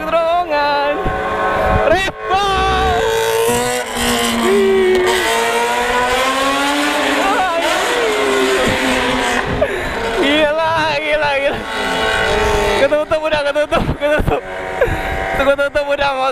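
A loud Kawasaki 6R motorcycle with a Yoshimura exhaust revs and roars with rising and falling pitch, echoing inside a tunnel, with shouting voices mixed in.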